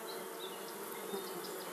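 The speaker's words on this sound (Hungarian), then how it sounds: "A dolgozók a méh család legnagyobb számú tagjai." Honeybees buzz at a hive, a dense, continuous drone of many insects at low volume with no voices.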